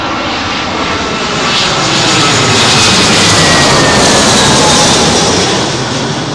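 A Ryanair jet airliner arrives on runway 27L at London Heathrow in windy weather, its engines roaring loud and near as it passes, swelling and then easing off, with no speech.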